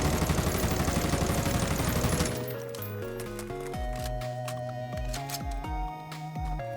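XM4 rifle fire from the video game Call of Duty Warzone: a rapid automatic burst at the start, then sharp, separate shots rising over a tonal game music or ambience bed.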